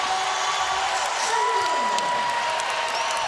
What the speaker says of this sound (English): you see this crowd in the Siegel Center is getting into it